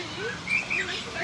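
An Amazon parrot gives a few short, bright chirping calls at a wing-clipping stall at a swap meet, moderately close, over a steady background hum and faint voices.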